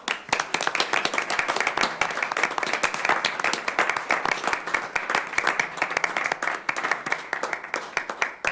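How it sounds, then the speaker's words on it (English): Crowd at a city council meeting claps for an award presentation to Parks and Rec staff, sharp, distinct hand claps in a fast, steady rhythm sustained for several seconds in a room. "give them all a round of applause"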